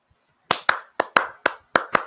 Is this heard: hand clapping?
yes